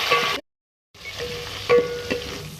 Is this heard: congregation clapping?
no